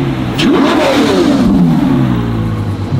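A Ferrari F12 N-Largo engine revs hard and loud, pitch sweeping up and then settling into a sustained, steady drone across three seconds, with no voices over it.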